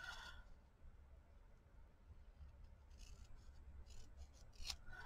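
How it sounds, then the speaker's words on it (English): Scissors snip and rasp through paper while trimming a jelly print, quiet and close, with a few sharper cuts near the end over a low background hum. "Scissors, scissors,"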